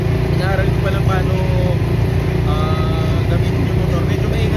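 ATV engine runs loudly and steadily throughout on the way to a 4x4 trail in Tanay, Rizal, with a constant rumble and a few revving swells, while someone talks over it.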